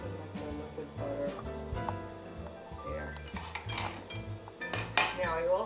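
A spoon stirs dried seasoning into melted butter in a bowl to make a fish casino topping. It makes repeated close clinks and scrapes against the bowl, with occasional faint speech.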